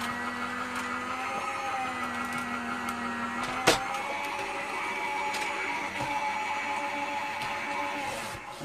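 A Gemini Junior die cutting machine runs with a steady mechanical motor hum and whirring tones that shift in pitch. A sharp click stands out partway through the even drone.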